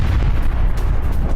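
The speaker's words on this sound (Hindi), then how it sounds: "हाइफा में गैस प्लांट पर ईरान का ये मिसाइल अटैक, ये देखिए।" A missile strike by Iran on a gas plant in Haifa sounds as a continuous, heavy low rumble of blast and burning roar. It stays loud and dense throughout the short stretch, with no voices heard.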